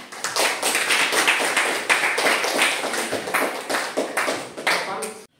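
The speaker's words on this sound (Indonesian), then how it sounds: "Tepuk tangan dulu." A chemistry class of students claps together in uneven rhythmic bursts of sharp hand claps, loud and close, mixed with some voices before stopping abruptly.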